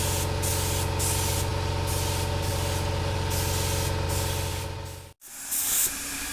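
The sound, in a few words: air compressor running while spraying primer paint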